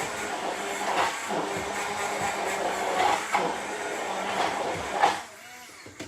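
A kitchen blender whizzes spinach and onion into a curry sauce, giving a rough, pulsing churn with rhythmic surges that stops abruptly near the end.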